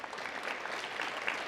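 An audience at a football signing event applauds with a steady, even wash of clapping, moderately distant and without voices over it.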